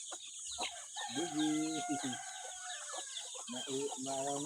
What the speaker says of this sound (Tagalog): Manok na.